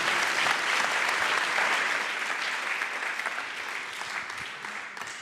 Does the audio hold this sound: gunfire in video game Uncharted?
no